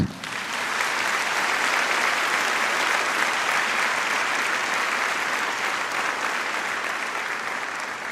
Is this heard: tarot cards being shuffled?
no